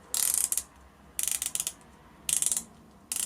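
A Doxa dive watch bezel being rotated, giving three bursts of crisp, loud ratcheting clicks in quick runs separated by short pauses, close up with no talking.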